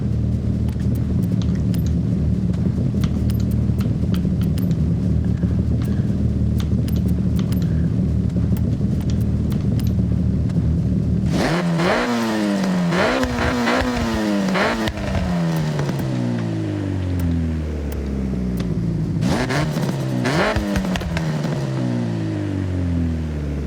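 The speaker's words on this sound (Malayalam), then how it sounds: "നമുക്ക് റേസ് എക്സോസ്റ്റ് തന്നെ വയ്ക്കാം." A Honda Civic fitted with a race exhaust idles with a deep, steady rumble, then revs repeatedly in sharp rising and falling bursts, loud and close, in the Forza Horizon racing game.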